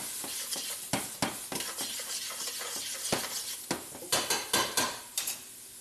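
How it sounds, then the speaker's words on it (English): A utensil scrapes and clinks against a pan while paprika is stirred in, a quick irregular series of sharp metallic taps and scrapes over a faint sizzle, close and fairly quiet. "Stir that in."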